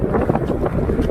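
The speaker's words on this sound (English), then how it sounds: "it's still windy" Wind buffeting a microphone outdoors while pike fishing, a steady loud low rumble that lasts about a second.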